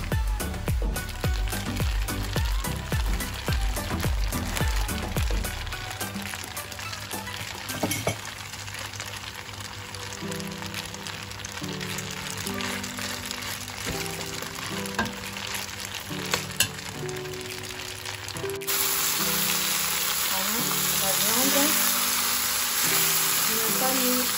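Pork and spaghetti fry and sizzle in a pan while being stirred, with steady close crackling, scraping utensil strokes and occasional light clinks.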